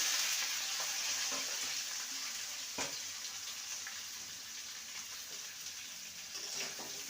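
Pieces of teasel gourd frying in a hot pan with fried poppy seeds, giving a continuous, even sizzle of oil that stays close and steady, with a single soft knock partway through.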